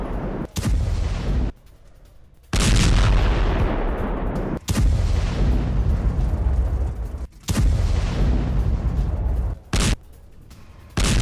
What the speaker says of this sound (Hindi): हमास के वेपन डिपो पर आईडीएफ की एयर स्ट्राइक विद वीडियो, ये देखिए जरा।